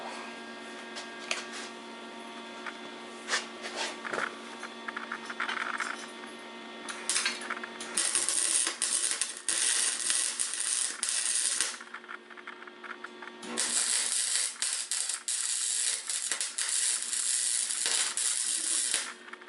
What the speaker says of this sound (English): We will be welding this up now.